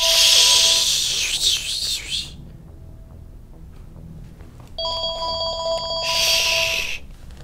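A telephone rings in the video game Mass Effect: two loud bursts of electronic ringing separated by a quiet gap, over low game ambience.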